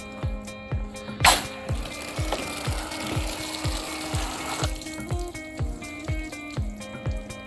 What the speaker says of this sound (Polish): Bardzo szybki spływ wody.